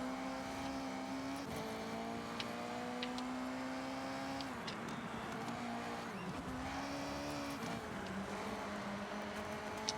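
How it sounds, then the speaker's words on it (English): Car engine roaring steadily in the racing game Forza Horizon 6, a loud continuous drone with pitch rising and falling through gear changes and a brief dip mid-run, with no voices over it. "can you hear that engine? It's like a completely different car."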